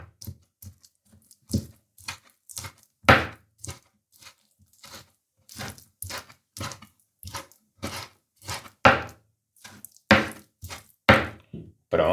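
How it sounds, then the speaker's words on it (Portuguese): A knife chopping fresh salmon into small pieces on a board, a steady run of close, crisp thuds in uneven rhythm, some strokes harder and louder than others, with no talk over it. "Vamos cortar em pedacinhos bem pequenos"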